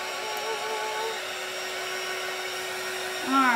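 A hair dryer blows steadily on painted craft eggs, a constant close whirring hum throughout with a brief rise in pitch near the end, no talking.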